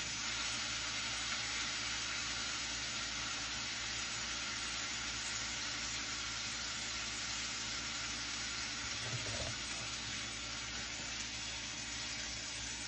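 A beef pot roast sears in a hot pan, making a loud, constant hiss of sizzling that holds steady throughout, with a brief soft knock partway through and no talking.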